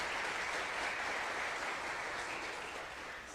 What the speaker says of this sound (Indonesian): kita sambut, kita beri aplaus kepada Pak Lo Keng Hong